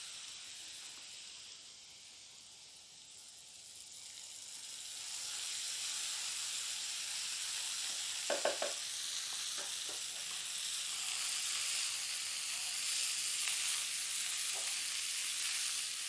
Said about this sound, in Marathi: आता यामध्ये आपण भाजी घालूयात।